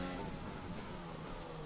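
A Formula 1 car engine in a racing video game holds a steady, dense high-revving drone in a high gear for under two seconds, loud and continuous with no talk.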